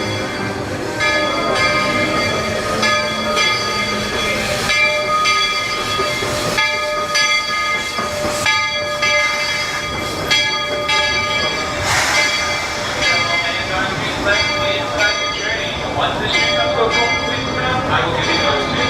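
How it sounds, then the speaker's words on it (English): A steam locomotive pulls into a Walt Disney World Magic Kingdom station, its big brass bell clanging steadily over a dense wash of crowd noise and rumbling rail sounds, with voices audible throughout. "In just a few moments, you're going to hear the big brass bell going dong, dong."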